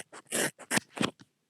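Scissors snipping through hair during a home haircut, a quick run of several crisp, close snips in an uneven rhythm, with no talking.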